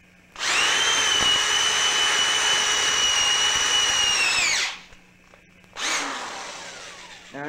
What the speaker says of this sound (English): Drill the other side.